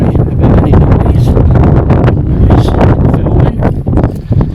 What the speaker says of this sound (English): Windy this afternoon